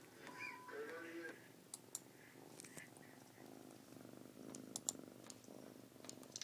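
A cat purrs in a continuous, faint, rhythmic rumble, with people talking quietly over it and occasional small clicks nearby.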